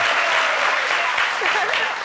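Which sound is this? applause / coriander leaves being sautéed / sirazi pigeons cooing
applause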